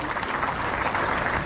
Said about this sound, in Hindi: तालियां जोरदार होती रही है